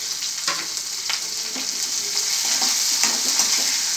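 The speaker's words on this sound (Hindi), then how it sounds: "प्याज को हम अच्छा भुनेंगे गोल्डन ब्राउन होने तक।" Onions sizzle and fry steadily in a pan as the base for chana masala, a constant bright crackle broken by occasional stirring scrapes, close and alone with no voices.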